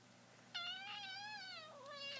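A kitten meows in one long, drawn-out cry that wavers in pitch and trails off into a second, softer meow, close and clear against a quiet indoor background.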